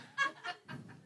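A person imitating a bird, with three quick, faint chirping, clucking calls in close succession, like a hen.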